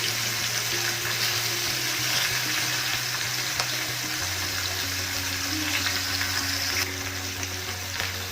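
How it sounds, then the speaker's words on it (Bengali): A rohu fish head fries in oil over low to medium heat, giving a steady, close crackling sizzle that runs without a break under a faint low hum, with no talking. "মাছের মাথাটা ভাজা হতে থাক"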